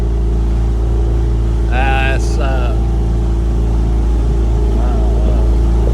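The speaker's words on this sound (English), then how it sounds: "I'm out here, got one sail up, still got the motor running" A sailboat's motor runs steadily while it crosses a large port under one sail, a constant low drone filling the whole stretch, with brief speech-like sounds in the middle.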